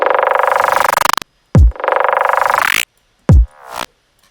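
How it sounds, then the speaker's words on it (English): Synth tone passed through a short delay with low decay: buzzy sustained notes cut off abruptly, each followed by quick low thumping repeats and a brief echoing tail, loud and dry with gaps of silence between. "Let's try a delay, maybe with a short time."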